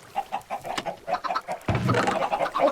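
Chickens on a video game chicken farm cluck in a steady series of short, repeated calls, then a louder, denser burst of noise takes over for the second half.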